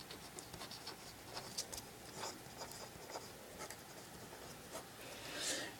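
A pen scratches quietly on paper in short, irregular strokes, with soft scrapes and a few light taps at close range and no speech.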